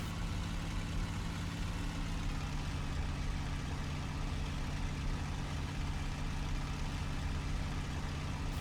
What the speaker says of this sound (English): I can kind of hear the engine is very nice